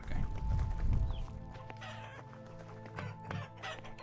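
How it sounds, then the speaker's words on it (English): Chickens in the Vintage Story game give a few close clucks over a soft background, with a heavier thumping burst at the start. "Hello, chickens."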